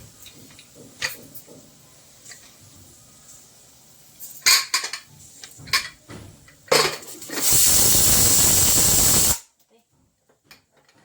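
A pressure cooker on a home kitchen stove vents steam in a loud, continuous hiss lasting about two seconds, preceded by scattered clinks of pots and utensils, then silence.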